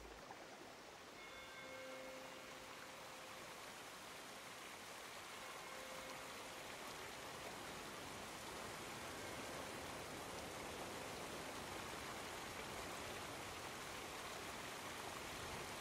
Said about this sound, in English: Just listening to the water flowing is enough for me.